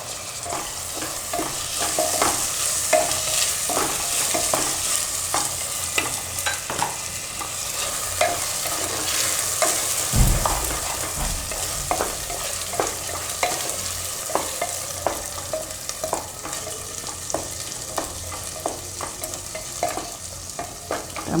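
Green garlic and pigeon peas frying in a pan for a potato and pigeon pea curry: a steady close sizzle with repeated scraping stirs throughout and no talking.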